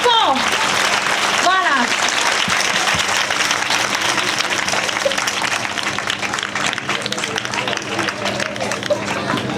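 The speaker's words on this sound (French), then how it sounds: "Alors, on continue d'applaudir pendant que monsieur l'inspecteur..." A crowd of schoolchildren cheer and applaud an inspector, with loud sustained clapping and a lively hubbub throughout while someone speaks over it.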